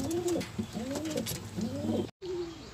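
Racing pigeon cooing nearby, three soft rolling coos in a row followed by the start of another, close and fairly quiet, with no talk.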